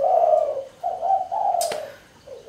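A zebra dove (perkutut) coos close by in a series of soft, rhythmic, hollow notes, with one sharp click partway through.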